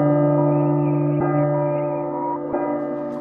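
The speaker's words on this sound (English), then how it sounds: "wait until midnight, which will cause a clock to start chiming" In the horror game P.T., a clock chimes at midnight: resonant, ringing bell tones sustain throughout, with two fresh strikes a little over a second apart, loud and alone with no voices.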